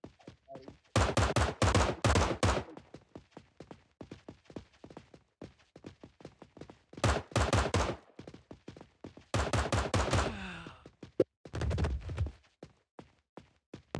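Rapid bursts of automatic gunfire in a video game shootout during police training, three loud sustained volleys separated by quieter single shots and clicks, no talking.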